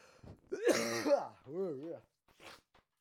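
A man with a cold clears his throat and gives a rough cough, close to the microphone, followed by a short strained vocal sound and a faint breath before it falls quiet.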